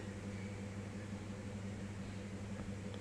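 An electric sewing machine runs steadily while stitching the sleeve of a Paithani saree blouse, giving a close, even motor hum with no distinct breaks and no talking.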